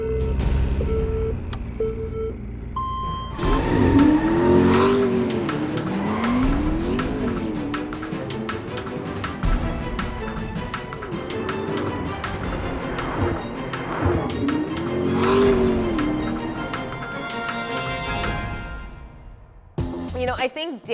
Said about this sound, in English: I can't wait to smoke him on the track.